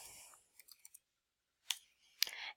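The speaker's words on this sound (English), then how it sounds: "I'm going to click on these boxes and then I can just type in the window there." A computer mouse clicks on boxes in Microsoft Excel: a quick run of four or five soft clicks, then two louder separate clicks after a pause, in a quiet room.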